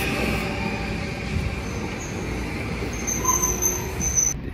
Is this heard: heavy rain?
no